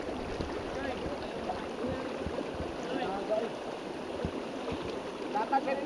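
A strong river current rushes and gurgles steadily around people tubing, with continuous broadband water noise close by, and voices talk faintly now and then.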